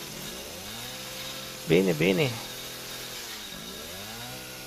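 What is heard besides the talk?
chainsaw in the video game Resident Evil 7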